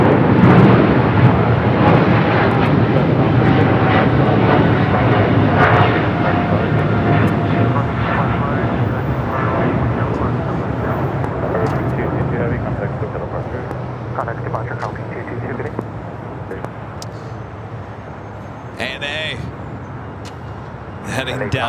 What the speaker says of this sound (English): Heading down here for a south side takeoff.